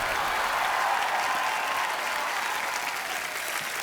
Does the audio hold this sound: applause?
yes